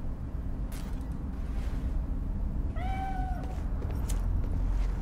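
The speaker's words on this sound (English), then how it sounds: "Just want to pet my cat." A single short cat meow in the video game Cyberpunk Phantom Liberty, heard over a steady ambient game background with no speech.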